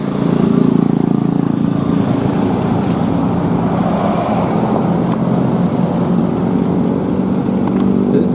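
A custom-built motorcycle engine runs with a steady, loud, rumbling drone that stays constant without clear revving or pauses.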